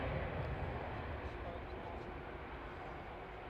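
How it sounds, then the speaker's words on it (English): A Ryanair jet making an intersection departure at Manchester Airport, heard as a steady broadband engine roar, moderately distant and constant across the clip. "Ryanair's just doing its intersection departure at the moment."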